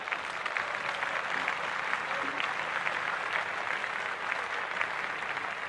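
A crowd claps steadily at moderate volume for about six seconds, a dense, even patter with no letup and no talk.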